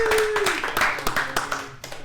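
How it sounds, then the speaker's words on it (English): A small audience gives a brief round of applause, scattered distinct claps over a faint lingering tone, moderately close with no speech. "let's just give him a round of applause real quick"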